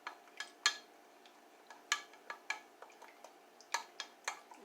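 A spoon clinks and scrapes against a bowl while stirring a McCormick seasoning packet mix for beer marinated brisket, producing a series of sharp, irregular taps and ticks close by, with no talking.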